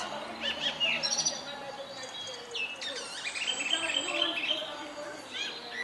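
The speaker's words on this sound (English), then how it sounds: "I'm guessing it's a female blackbird" A female blackbird perched in a tree on a walk in Penarth, Wales, gives bright, faint chirps and song phrases over a soft outdoor background, with a murmur of voices nearby.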